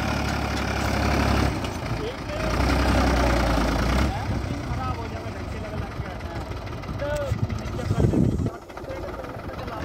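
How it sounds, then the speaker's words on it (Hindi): A Mahindra 265 tractor engine pulls a plough in a field, a steady mid-pitched diesel drone under loud, continuous talk from a man nearby. "ये देखे भाइयों अब चला है ट्रैक्टर जम के"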